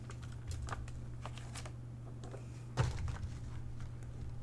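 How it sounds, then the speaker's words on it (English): Keys on a membrane computer keyboard pressed close by, a quiet irregular run of soft clicks with one louder thump partway through over a low steady hum. "That's what a membrane keyboard feels like."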